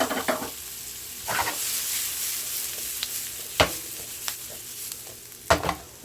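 Pre-cooked potatoes and turkey kielbasa sizzle steadily in a pan for a brunch hash, broken by several sharp scraping stirs of a utensil against the pan.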